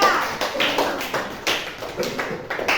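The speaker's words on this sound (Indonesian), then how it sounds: "kita berikan aplaus untuk kelompok 3" A small group in a training session claps for a presentation group, with a short burst of close, brisk hand claps in an uneven rhythm that fades out.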